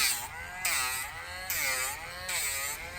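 A Dremel rotary tool whines while grinding nails during a nail trim, a high buzzing drone that rises and falls in pitch with each pass, coming in short pulses.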